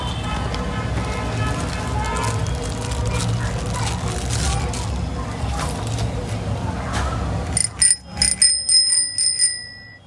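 Several quick, bright bicycle bell rings near the end, following a stretch of steady background noise and movement.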